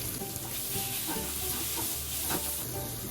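Shrimp sizzles and fries steadily in a hot pan for a sautéed bean sprout and tofu dish, a dense close hiss with faint stirring and no talk.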